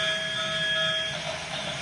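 A T.H.E. Trains retro-style toy train set gives off a synthetic steam train sound, a steady whistle-like tone over a chuffing hiss that cuts out partway through, leaving soft mechanical rumble.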